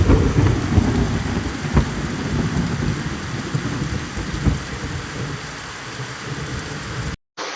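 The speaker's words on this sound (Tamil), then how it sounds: "ரொம்ப அதிக இடி மில்லோட மழை பெய்யுது" Heavy rain pours steadily in Tirukkoilur, Tamil Nadu, with low rumbles of thunder rolling underneath, loud and continuous, with no voices.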